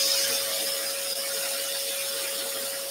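A scroll saw buzzes steadily as it cuts wood for shelf brackets, a close, continuous mechanical whine with a fixed tone and no talking.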